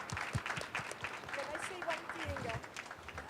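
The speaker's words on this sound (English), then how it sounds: "a big warm round of applause for our panelists" Applause for conference panelists after a discussion on green iron trade and steel decarbonisation, fairly quiet and somewhat distant clapping mixed with talking voices.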